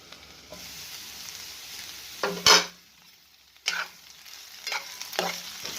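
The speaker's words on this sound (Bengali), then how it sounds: "আবারও আমি ভালো করে নাড়াচাড়া করে দিচ্ছি" Potatoes and spring onions fry in a pan over low heat with a soft steady sizzle, interrupted by a few distinct scraping stirs of a spatula, close up and without talk.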